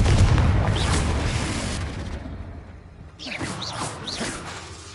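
A Confringo blasting spell erupts in the video game Hogwarts Legacy: a heavy, rumbling boom with a dense low roar that fades, then a second burst of crackling, whooshing magical effects follows.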